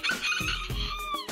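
A tiny bantam chicken, bred from Japanese and Malaysian bantams, gives a short, close, high-pitched crow with a rising then falling wavering call.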